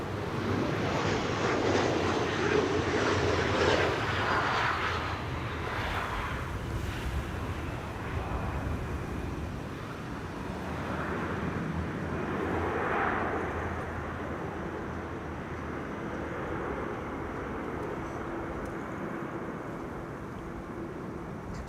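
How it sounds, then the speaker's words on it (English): A business jet spools up on a runway at Amsterdam Schiphol Airport, its broad engine roar swelling and holding steady with wind rush over the microphone, heard from a distance with no talk. "Bizjet on runway 22. Spooling up."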